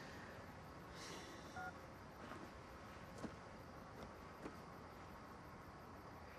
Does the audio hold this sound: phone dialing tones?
yes